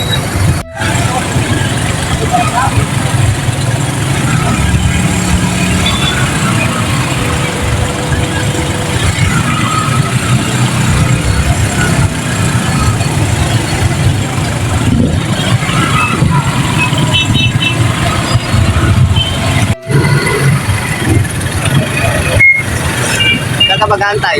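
Street traffic outside a moving vehicle heading to a market: a steady heavy rumble of engines and tyres, close and loud throughout, with a few faint beeps and brief knocks near the end.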